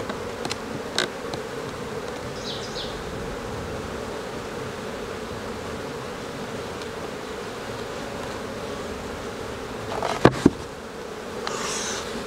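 Dense, steady buzzing of a swarm of bees close around an open beehive during a hive inspection, continuous throughout with a couple of sharp knocks near the end.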